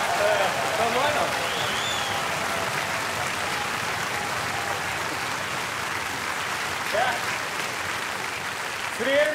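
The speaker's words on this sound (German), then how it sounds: "Wenn der Applaus vom Publikum laut ist, dann machst du es." A television studio audience at a Volksmusik show claps steadily and evenly throughout, with light vocal sounds under the applause.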